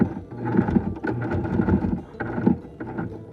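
An old Elna sewing machine stitches through chipboard in bursts of mechanical whirring and rhythmic needle thumps, with short pauses between runs, close and fairly loud.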